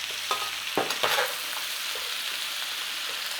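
Chicken pieces frying in a hot pan, a steady sizzle with a couple of scraping stirs near the start, close and continuous with no talk.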